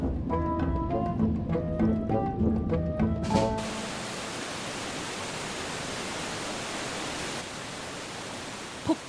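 Jeongbang Falls on Jeju pours down as a steady, broadband roar of falling water. Its rushing wash fills the whole scene after a short opening of unrelated tonal sound.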